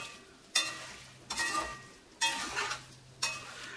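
A spoon stirs spicy chicken pickle in a hot pan, giving four separate scraping strokes over a soft sizzle, close and fairly quiet with no talking.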